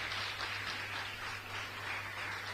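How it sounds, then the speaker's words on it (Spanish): Congregation clapping at a Sunday church service, a steady wash of many hands applauding together, fairly faint and continuous without any voices. "Así que dele un fuerte aplauso al Señor"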